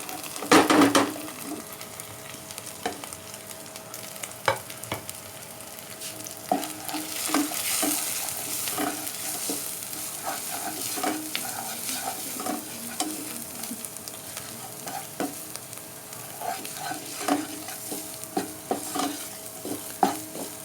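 Dry spices and a kebab mixture fry in a handi, sizzling steadily while a spoon scrapes and clinks against the pot in irregular strokes, close up with no voices.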